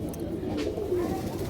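Pigeons in a pigeon loft in Nitaiganj, Narayanganj, give low, rolling coos that overlap in a steady murmur close by, with no talking over them.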